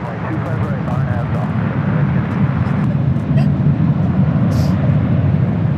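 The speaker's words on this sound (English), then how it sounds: "United 777-200 coming in from Honolulu, flight 1169." A United Boeing 777-200 heavy jet arriving at LAX from Honolulu, a steady loud engine roar held throughout with a person talking over it.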